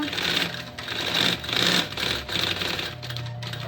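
A sewing machine backstitches elastic onto a backpack with a panel, running in several short, close bursts of rapid mechanical stitching separated by brief pauses.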